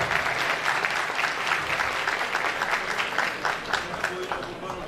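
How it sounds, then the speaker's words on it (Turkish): Applause from an audience at a unity and solidarity evening ceremony, a dense steady burst of many hands clapping that holds loud and even throughout. "Evet, alkışlarımız Adnan Şamdan hocamıza gelsin."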